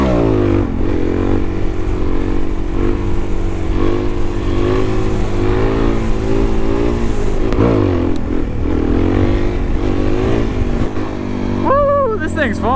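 Suzuki DRZ400 dirt bike pulling hard in third gear on local trails, its engine drone rising and falling with repeated throttle surges, loud and close, with a rider's shout near the end.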